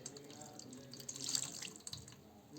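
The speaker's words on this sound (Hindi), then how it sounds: "और इनको हम करा देंगे गर्म पानी से स्नान।" Warm water is poured over a deity idol during a Hindu bathing ritual, giving a faint, uneven trickle and splash that swells midway, with soft background sounds.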